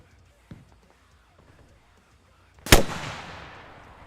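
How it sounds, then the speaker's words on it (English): A single sharp rocket blast in the Arma Reforger military game, loud and close, followed by a long rumbling decay; a faint thump sounds earlier over quiet background. "Rocket, rocket, rocket."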